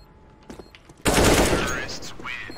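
Burst of video game gunfire erupts after a second of quieter sounds, loud and dense rapid shots continuing to the end, with a voice talking briefly.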